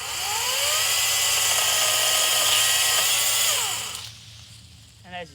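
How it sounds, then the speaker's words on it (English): An Ozito brushless chainsaw whines at high speed for several seconds, loud and close, its pitch wavering slightly as it cuts overhanging branches in a yard, then winds down abruptly into quiet with a short burst of noise at the end. "this chainsaw here is quite capable for anything around the yard that's just overhanging"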